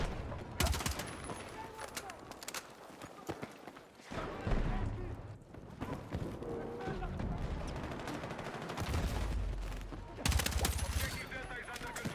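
Battlefield 6 gunfire: repeated bursts of automatic rifle fire and scattered single shots, some close and loud, others more distant, over continuous battle noise across several volleys.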